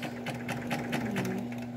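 A Singer sewing machine runs close by with a steady, rapid needle clatter and an even motor hum for the whole stretch.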